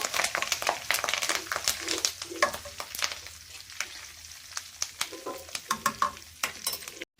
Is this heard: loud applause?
no